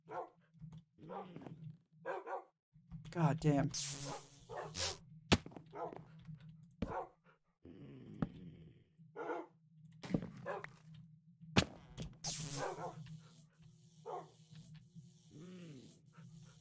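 A dog in Minecraft with the Thaumcraft mod barks repeatedly in scattered bursts over a steady low hum, with sharp clicks and a man's brief muttered curse mixed in.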